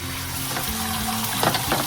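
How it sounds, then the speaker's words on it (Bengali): Egg dropped into hot oil in a pan for a Kolkata egg roll, giving a steady close sizzle with a brief spattering burst near the end. "এবারে আমি এটা একটু তুলে এবারে এই ডিমটা এই তেলের মধ্যে দিয়ে দেব"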